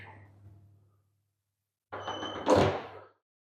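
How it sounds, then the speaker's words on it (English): Fire door in a kitchen of an Edinburgh HMO flat swinging shut under its automatic closer, a quiet mechanical creak fading, then silence, then a firm latch and thud as it seals closed. "this will automatically close the door from a 90-degree angle"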